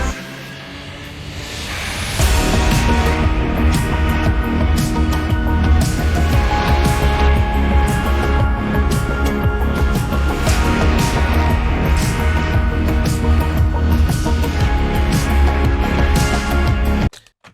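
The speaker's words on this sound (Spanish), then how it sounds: "Entonces el instrumental solo suena así." An instrumental backing track with vocals removed by AI separation, a dense full-band mix with steady drums and bass that kicks in after a quiet two-second intro and plays loud and continuously.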